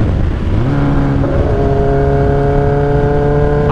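A 2008 Suzuki GSX-R 1000 motorcycle with a straight-pipe exhaust revs loudly and steadily up close, its pitch climbing in stepped rises and then holding a high, raw drone with no talking.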